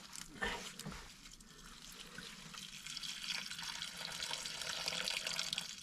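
Water leaking from a broken pipe beneath a building, a quiet steady splashing and running flow that grows slightly louder toward the end, with no voices over it.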